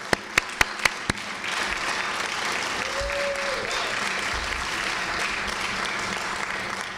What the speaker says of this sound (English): Raise your hands, those of you, because you deserve a round of applause.